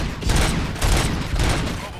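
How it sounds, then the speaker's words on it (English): Rapid bursts of heavy gunfire in the shooter RoboCop: Rogue City, three loud clustered volleys close by with booming low end, no voices over them. "Gunshots? What's going on?"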